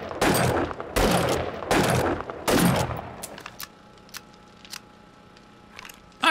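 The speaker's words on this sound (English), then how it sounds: "I actually want to see how you shoot a little bit." Gunfire from a gun in the game 7 Days to Die: four loud, close shots or short bursts in quick succession, followed by a few faint mechanical clicks and a near-silent pause.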